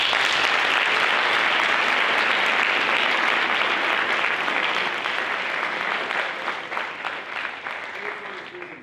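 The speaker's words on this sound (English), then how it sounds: "I appreciate the applause." An audience at a school assembly applauds a motivational speaker with loud, sustained clapping that stays dense for about five seconds, then thins and tapers toward the end.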